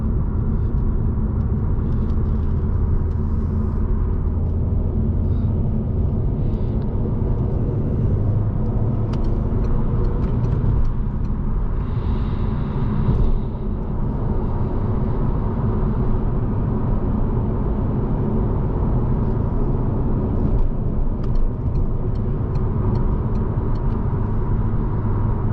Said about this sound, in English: Let's see if we can make some revs here on the highway.